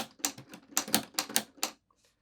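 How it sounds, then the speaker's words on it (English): A quick run of sharp key strikes on a LEGO Ideas 21327 typewriter, about eight clacks in uneven rhythm, close up, ending in a faint small click and silence. "it makes that noise of a typewriter"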